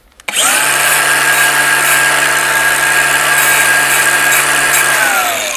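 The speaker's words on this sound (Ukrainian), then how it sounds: "Беремо болгарку." Angle grinder cutting into a brass piece to test the metal, a loud, steady high-pitched whine that starts abruptly and holds for about five seconds before the pitch begins to drop as it winds down, with no talk.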